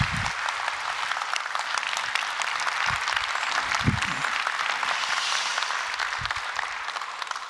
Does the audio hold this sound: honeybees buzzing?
no